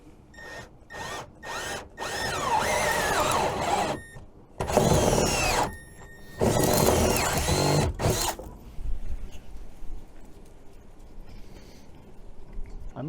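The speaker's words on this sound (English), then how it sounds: "we're going to drill a hole. I think the step drill will go that big to take that round boss." A step drill bores a hole through a pontoon boat steering console in short bursts, loud whirring runs alternating with pauses, the last stretch quieter.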